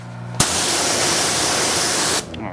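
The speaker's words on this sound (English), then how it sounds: "I shouldn't be spraying my jack like that" Spray can hissing onto a car jack beside a Honda S2000 during tire prep: one loud, steady, close spray lasting nearly two seconds, cut off sharply, with quiet background on either side.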